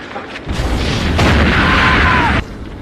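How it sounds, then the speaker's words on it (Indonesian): A car explodes in a loud boom that bursts out and roars for a couple of seconds before abruptly ending. "tewas meledak di dalam mobil"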